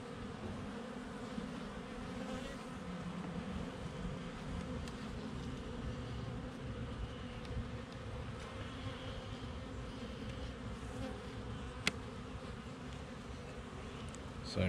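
Honeybees from a week-old swarm hum steadily in and around an opened hive during a frame inspection, a soft continuous drone with no talk.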